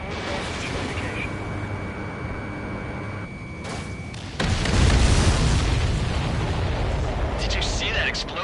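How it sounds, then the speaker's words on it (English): A loud explosion in the jet combat video game Ace Combat 7 bursts in about midway, a heavy rumbling blast that lingers under ongoing game noise and radio-style voices. "Did you see that explosion?"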